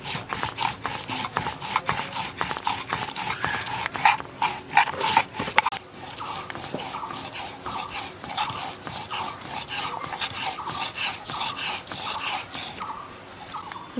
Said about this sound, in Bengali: একসঙ্গে আদা আর জিরেটা বেটে নিচ্ছি।